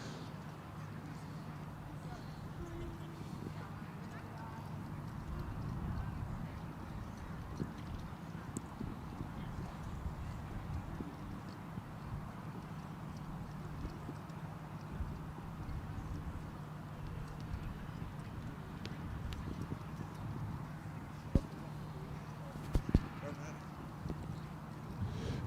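Horse hooves clip-clop steadily across a show arena as a younger middleweight horse comes forward in its class, soft and somewhat distant under continuous background chatter, with an occasional whinny.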